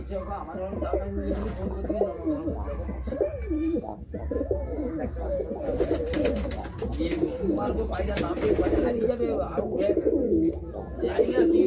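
Pigeons in a loft, Madrasi and Punjabi breeds among them, coo repeatedly in soft, rolling bursts close by, while someone talks over them and brief rustling and flapping noises come through.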